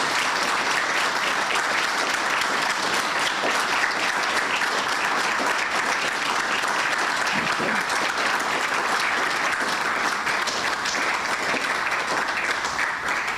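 Standing applause for a new global president at a chartered institute's investiture ceremony: a large audience claps in a dense, continuous roar that stays loud and even for over thirteen seconds, with no one speaking.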